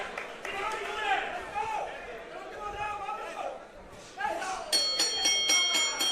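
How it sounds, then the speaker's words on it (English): Final bell closing a four-round boxing fight at a live New York fight night, a series of bright metallic rings near the end under a commentator's talk and crowd chatter. "What a fight. Final bell."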